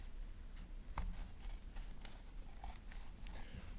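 Scissors cutting across denim from a pair of jeans, heard as soft crunchy snips and fabric rustle in an uneven rhythm, close but faint over a low background rumble.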